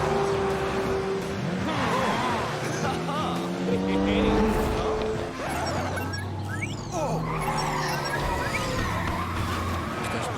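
Cartoon race cars in a police-and-crocodile animated story, with revving engines, squealing tires and whooshing speed effects as the race begins, all under excited voices and music.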